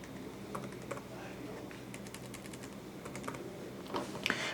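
A computer keyboard is typed on as a bank account number is entered, with quick light key taps in short irregular runs, soft and close over a low room hum.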